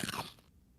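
A chalky, sugary cereal cookie is crunched while eating, a single close, crisp bite that fades quickly into quiet, with no talk.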